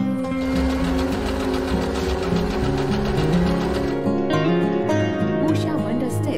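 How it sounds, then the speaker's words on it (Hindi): An Usha Janome Wonder Stitch automatic zigzag sewing machine runs close up with a steady mechanical whir and rhythmic needle chatter, continuous throughout and easing slightly near the end, with no talking. "ये ऑटोमेटिक जिगजैग सिलाई मशीन है और इसमें एक कैरिंग हैंडल भी दिया गया है।"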